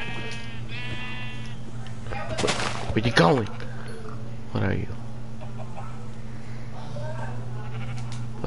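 Bleats from a black sheep in Minecraft sound a few times, one sharp and loud in the middle and fainter calls later, mixed with a brief loud game effect and a person talking over the steady background hum.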